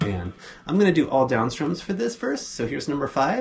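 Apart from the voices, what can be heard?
No everyday noises stand out.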